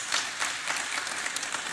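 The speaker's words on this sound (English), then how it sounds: "ask the audience to give a round of applause for the panel members" An audience at a public lecture gives a round of applause for the panel members, a brief, even burst of many hands clapping together at moderate loudness, with no talking.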